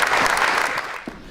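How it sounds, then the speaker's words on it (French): Brief burst of audience applause at a French awards ceremony for artisan titles in Aveyron, a dense, even wash of clapping that fades slightly at the end. "Sous vos applaudissements, s'il vous plaît."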